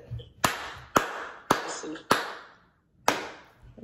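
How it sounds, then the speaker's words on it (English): Five sharp hand claps ring out close and loud about half a second apart to sync the audio before an online chat, each snapping off quickly, with a short pause before the last. "I got to do this clap thing to make sure our audio is lined up"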